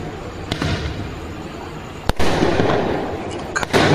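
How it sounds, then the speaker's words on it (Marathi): Firecrackers burst in a hostel celebration after an RCB final win, several sharp loud cracks scattered over a few seconds above a noisy crowd background. "मस्त फटाके फोडायले."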